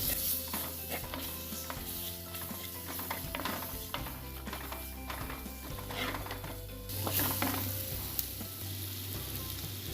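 Masala frying and sizzling steadily in a pan for a Kerala-style crab kuruma, with tomato and tamarind added, a continuous close crackle with occasional stirring scrapes and no talking.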